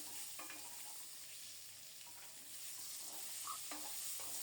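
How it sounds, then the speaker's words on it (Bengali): Potato and papaya pieces fry in a little oil in a pan with a bay leaf, giving a dense, continuous sizzle while a spatula stirs them with soft, irregular scrapes. "নেড়ে চেড়ে আলু পেঁপে খুব সুন্দর মতো ভেজে নেব"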